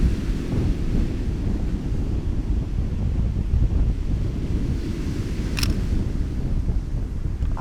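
Sea waves at a damaged pier make a steady low rumbling wash, heavy with wind buffeting the microphone and with a brief sharp click partway through.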